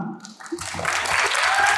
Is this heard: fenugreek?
no